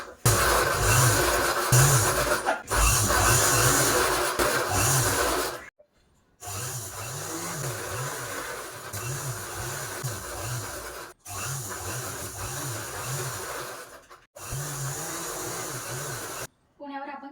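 A home sewing machine stitches a fabric frill onto a cloth, running in steady continuous bursts with a pulsing mechanical rhythm, briefly stopping and restarting several times, loud and close with no talk over it.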